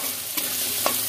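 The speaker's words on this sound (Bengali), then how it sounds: "একটু আলুগুলো লাল করে একটু ভাজবো।" Potato pieces fry in oil with turmeric and salt in a steady, close sizzle, with a couple of brief stirring scrapes partway through.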